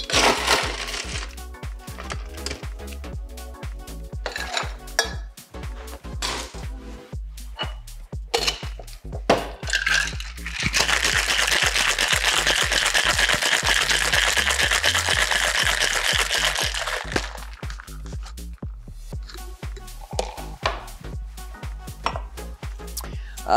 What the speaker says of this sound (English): Chuck some ice in there, give it a shake.